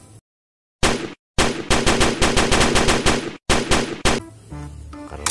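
A toy machine gun pistol blasts its electronic firing effect in long, loud rapid-fire rattling bursts with brief pauses, close up, followed by a short electronic tone.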